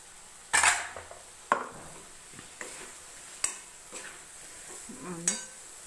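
A metal spoon scrapes and clinks against a pan as vegetables are stirred and roasted for a home-cooked bhaji, giving several sharp, separate knocks a second or so apart over a faint sizzle, with no talking.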